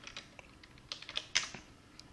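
Typing a word on a computer keyboard, a quick run of light, close key clicks in an uneven rhythm, ending on a slightly louder keystroke, with no talk.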